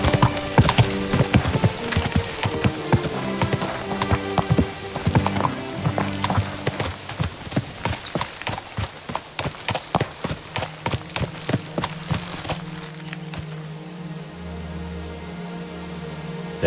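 Horse hooves clip-clop in a rapid, continuous rhythm in the video game Kingdom Come: Deliverance II, loud and close, with a neigh, then slowing and fading near the end.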